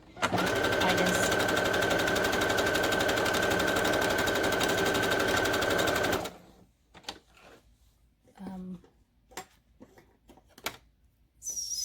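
A sewing machine runs fast and steady for about six seconds, stitching the folded edge of a homemade fabric mask, then stops, leaving faint clicks and handling noises of fabric being adjusted.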